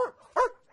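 A dog barking in a video game, two short yappy barks close and clear with a brief gap between them.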